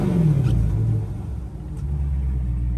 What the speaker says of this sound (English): Wanted to give you a quick demonstration of the exhaust here for you.